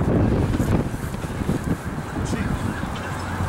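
A sudden gust of wind roars and buffets the microphone outdoors, strongest at the start and then settling into steady rushing noise.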